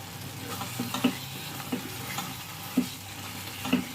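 Tomato khatta with cashews, raisins and chili powder being stirred in a pan, soft scraping strokes of the spoon recurring every second or so over a faint low sizzle, close and quiet, with no talking.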